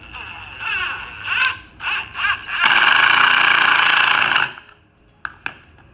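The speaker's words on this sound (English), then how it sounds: "Now you can use that long screw you wanted to secure your boards." A power drill drives a long screw into a pocket hole to join wooden boards, with short whirring bursts followed by one sustained run, then a couple of sharp clicks.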